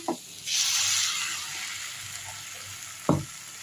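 Sprouted ragi adai batter hits a hot pan and lets out a loud, steady sizzle that starts abruptly and then slowly fades to a low hiss. A few soft clinks of utensils come before and after it.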